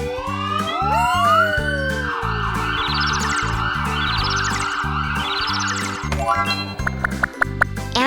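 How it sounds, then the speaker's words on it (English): An ambulance siren wails loudly and alone, rising and falling in repeated sweeping cycles, joined near the end by faster electronic yelps and bright chiming tones. "Ambulance."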